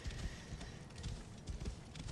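Horse hooves clip-clop in the video game Assassin's Creed Origins, a quiet, regular run of dull thuds in a steady trotting rhythm, alone with no voice.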